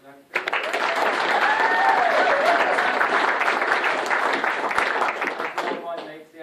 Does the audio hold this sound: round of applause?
yes